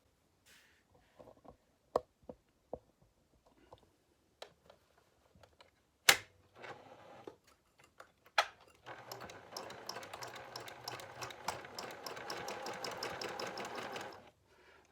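Sewing machine stitching the binding on a comforter: a few isolated clicks and taps, then a steady fast rattling run of stitches that goes on for several seconds, close and fairly quiet.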